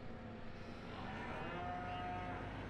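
Cows moo in the Farming Simulator 17 video game, a drawn-out lowing call rising over a steady farmyard background hum, with no talking.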